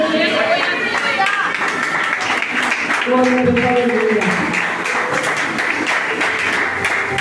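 Church congregation clapping hands in a steady broadband wash that runs the full length, with a voice speaking and crowd chatter over the applause.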